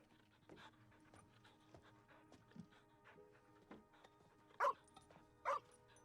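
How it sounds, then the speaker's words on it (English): Indoors, a dog pants quietly and then gives two sharp, loud barks near the end, with faint background murmur. "Listen to the dog."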